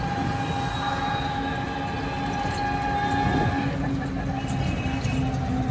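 Steady rumble of a train with a sustained metallic hum and squeal, like rolling stock moving through the old Ghaziabad railway station, with a faint voice at times.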